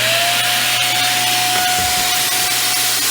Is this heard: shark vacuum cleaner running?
yes